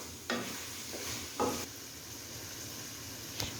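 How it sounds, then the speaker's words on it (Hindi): A spoon stirs ketchup into a shell-pasta sauce in a pan, soft scraping strokes over a quiet sizzle, with a few sharper clinks of utensil against the pan. "सैम्यूल मिक्स कर रहे हैं।"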